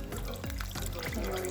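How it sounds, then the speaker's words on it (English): Broth pours steadily into a cooking pot for shrimp and grits, a continuous liquid splash and trickle heard up close. "I'm going to add the remainder of the broth."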